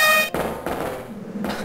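A loud, blaring air horn plays as the activation sound in the video game Resident Evil 2. One sustained honk at the start is followed by heavy, booming in-game noise, with no talking.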